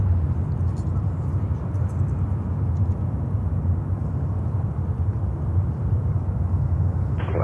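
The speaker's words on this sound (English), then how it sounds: "The next takeoff is happening Etihad 350-1000 to Abu Dhabi." An Etihad Airbus A350-1000 jet takes off at a busy airport, a steady low roaring rumble heard from a distance throughout, with no talk over it.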